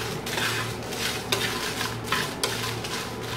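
Whole dried red chillies, about twenty with their stalks trimmed, roasting in a pan and stirred steadily, giving a continuous dry rustle and scrape with occasional utensil clinks against the pan, close and moderately loud.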